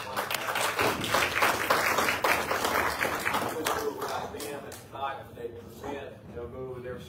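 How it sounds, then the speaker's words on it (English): An audience at a county commissioners' joint meeting with the public schools claps, a dense patter of many hands mixed with voices that fades after a few seconds as talk carries on. "I'm going to give you a real clap"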